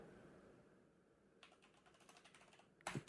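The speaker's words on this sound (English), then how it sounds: "Sorry, typing a comment, trying to listen to you at the same time, and it's not working." A computer keyboard clicks with sparse, faint keystrokes while someone types a comment in a quiet room, and a voice cuts in briefly at the end.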